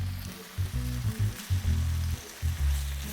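Bacon frying in a large pan for a beef and bacon burger: a steady close crackling sizzle fills the whole stretch, with low bubbling pulses rising and falling underneath.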